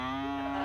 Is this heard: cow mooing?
yes